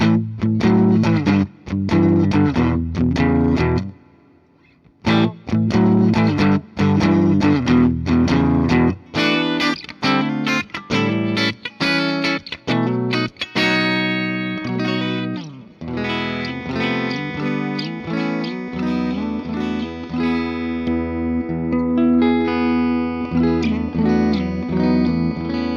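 A Carvin DC400 electric guitar on its neck pickup rings out through effects with distortion and chorus, strummed chords and picked notes loud and close, pausing briefly, then longer sustained chords toward the end.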